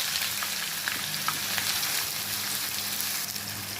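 Three large chopped onions frying in a pan for a mutton liver dish, a dense continuous sizzle close up with faint occasional clicks, steady and loud throughout.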